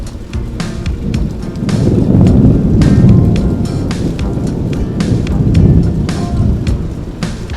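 A spring rainstorm pours steadily with a loud, continuous rush, with low thunder rumbling through the middle and crackling impacts on top, alone with no voices.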